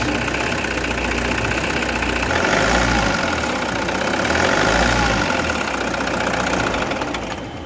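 A Toyota Hiace van engine, earlier refusing to run, catches and settles into a steady idle, loud and close, with a slow rise and fall in its low rumble and no talking.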